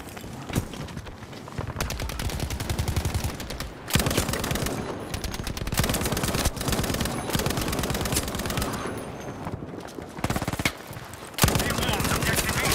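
Lewis machine gun firing in a World War I shooter game on a map called Devastation, with long rapid bursts broken by short pauses and a couple of louder blasts, close and dense.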